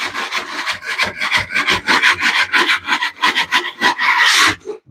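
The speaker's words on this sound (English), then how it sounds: "Right now, it's going to scrape this damp mortar off the floor." A drywall mud knife scrapes damp mortar off a floor, giving close, loud rasping strokes in quick repeated bursts, steady for several seconds before a final harsher scrape.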